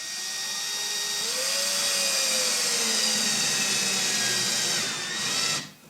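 A power drill drives a screw to fix a drawer slide onto a nightstand drawer, one steady whine that rises in pitch partway through, then cuts off abruptly near the end; close and fairly loud.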